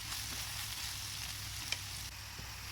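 Mushrooms and onion frying in a pan give a steady, even sizzle that holds at a moderate level for the whole stretch, with one small crackle standing out near the end.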